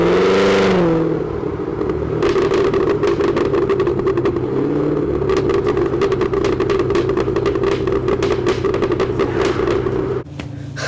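Cadillac Escalade V engine revving hard with a loud, deep exhaust note, a sharp rising rev at the start and then sustained roaring acceleration with crackling clatter, no talk.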